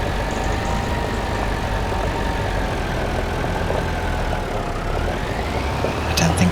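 A tractor engine in Farming Simulator 25 runs with a steady low diesel drone and a faint whining tone above it, holding an even, constant level throughout with no talking.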